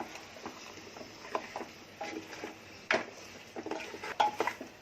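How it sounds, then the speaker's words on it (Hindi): A goat head being fried, stirred and turned in a pan: repeated scraping and clinks of a utensil against metal over a soft sizzle, with no voices. "अब इसमें मुंडी जाएंगे अपनी बकरे की मुंडी। इसको भी थोड़ा भून रही हूँ।"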